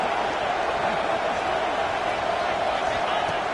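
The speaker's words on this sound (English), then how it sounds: "here comes the noise. This crowd is trying to inspire this defense to make a big red zone stop." A stadium crowd roars at a football playoff game as the defense tries to make a red zone stop, a dense, steady wall of noise with a commentator talking over it.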